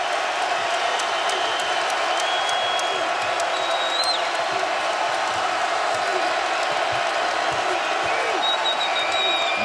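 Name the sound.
basketball arena crowd cheering at Tennessee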